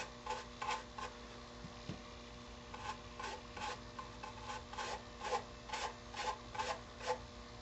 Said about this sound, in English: You want to use a stiff brush, go under the windows, and drag it down.